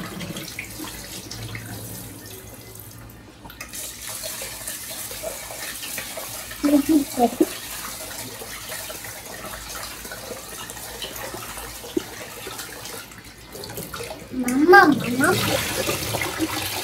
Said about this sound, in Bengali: ভালো মতো চালটা হচ্ছে ধুয়ে নেব।